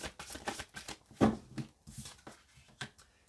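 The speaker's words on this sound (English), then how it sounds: "let's get some cards out" Tarot cards shuffled and drawn during a reading, a run of soft papery riffles and slaps with one sharper flick near the middle, close and quiet with no talking.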